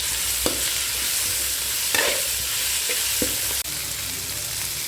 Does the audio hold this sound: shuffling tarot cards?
no